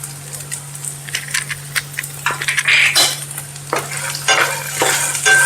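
Poha being stir-fried with potatoes, turmeric and salt in a hot pan, a spoon scraping and clinking against the metal in short irregular strokes over a steady low sizzle, close and fairly loud, with no talking.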